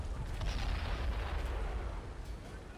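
Heavy gunfire and booming blasts in a World War II video game beach battle, a dense continuous low rumble of shots and explosions throughout, loud and close.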